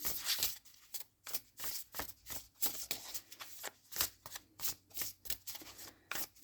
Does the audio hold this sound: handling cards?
yes